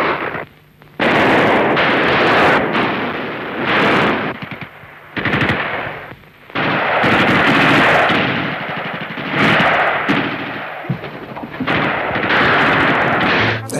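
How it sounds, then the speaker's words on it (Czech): Heavy exchanges of machine-gun and rifle fire in World War II archival film of fighting by a railway bridge on Klatovská Avenue in Plzeň, loud rattling bursts repeating in waves with short pauses, no voices. "Střelba u železničního mostu na Klatovské třídě."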